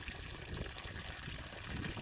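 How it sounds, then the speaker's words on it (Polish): Water pumped from a well casing pipe after drilling, a soft continuous trickle and splash at low level, steady without pauses. "No i pompujemy właśnie tę wodę."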